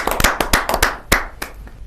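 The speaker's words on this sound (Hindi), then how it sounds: "जोरदार तालियों के साथ उनका अभिनंदन करें" Audience at a Hindi poetry gathering (kavi sammelan) clapping loudly in a quick run of sharp, distinct claps over about two seconds, with no talk.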